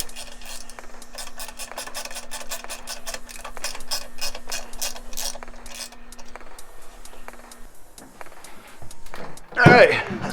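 A ratchet loosens the muffler bolts on a Harley-Davidson Dyna Street Bob, giving a fast run of close, clicking strokes that slows and then stops. A louder metallic clunk follows near the end, and a voice can be heard faintly.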